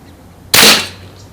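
A pumped air gun fires a pellet five pumps strong, one sharp loud crack with a brief fading tail, close by and alone.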